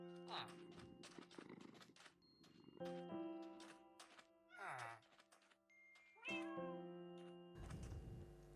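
Several cats meow in Minecraft, including a Siamese and a tabby, with short rising and falling calls spread across a bed of game music and chimes.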